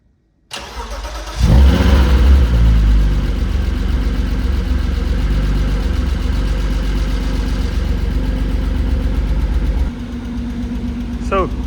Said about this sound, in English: New battery, and whew, starts right up.